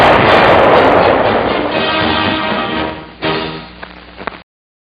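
A land mine explodes in a 1945 wartime newsreel: one loud, sustained blast roars and rumbles, then fades, followed by a second sharp burst and a few crackling impacts before it cuts off.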